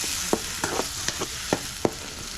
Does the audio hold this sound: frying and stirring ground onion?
yes